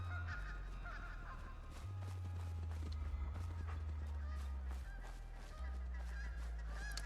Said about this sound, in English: I think they're geese noises, yeah.